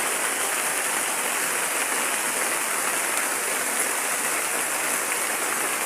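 Steady, dense rain pours down without a break, a loud even hiss filling the surroundings with no voices.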